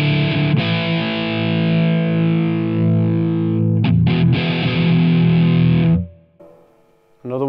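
Electric guitar played through a distorted preset on a Line 6 Amplifi 150 amp: thick, loud sustained chords with a couple of quick chord changes, then a brief near-silent pause before a note returns.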